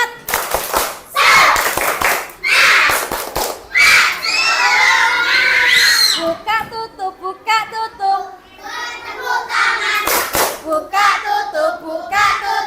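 Primary schoolchildren in a classroom doing a spirited clapping cheer, loud chanted shouts from a group of kids broken by bursts of rhythmic group clapping, with pauses and a teacher's voice between segments.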